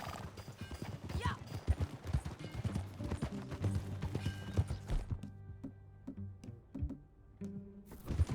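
Horse hooves clip-clopping at a steady ridden gait in Red Dead Redemption 2, close and rhythmic with occasional thuds, a short whinny, and a quieter stretch near the end where a low engine-like drone continues.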